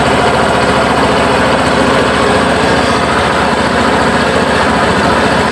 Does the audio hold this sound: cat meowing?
no